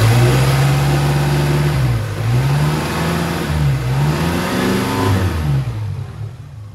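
Engine of a 2003 Suzuki Espass pickup running close by, a steady low hum that rises and dips through several revs before easing off, with no talking.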